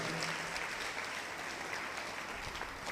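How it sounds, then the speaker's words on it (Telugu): A church congregation clapping loudly together, a dense continuous patter of many hands applauding at steady volume for the whole stretch, with no talking over it. "గట్టిగా చప్పట్లు కొట్టండి, గట్టిగా కొట్టాల"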